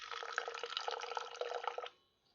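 Water splashing and pouring into a container of chia seeds for a smoothie, a bright steady trickle with small drips that stops abruptly near the end, leaving quiet.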